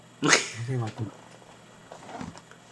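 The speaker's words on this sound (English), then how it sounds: "that was just a very sad meow" A cat gives a single sad, drawn-out meow at close range, with faint background noise and a soft voice murmuring afterward.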